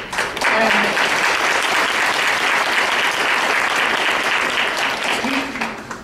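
Steady, sustained applause from a large audience, dense and even throughout, with a brief voice faintly audible underneath.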